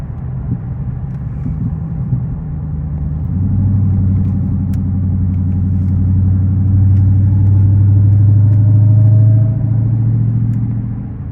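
A Honda vehicle rumbles along a back road in a steady, fairly loud exhaust drone that swells after a few seconds, with faint gurgles and pops from the exhaust beneath the engine sound.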